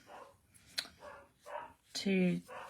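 A dog barks repeatedly in the background of a live painting session, a few sharp yaps spread across the moment, partly under a speaking voice.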